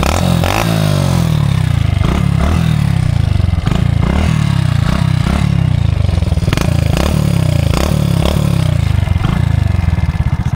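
A heavily modified Hero Splendor motorcycle with raised suspension revs up close and loud in a steady series of sharp throttle blips, with no talk over it.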